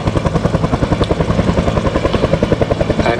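A Bell UH-1 Huey helicopter lands at the Duxford air show, its rotor loud and close in a fast, even, thumping beat with a steady engine whine underneath.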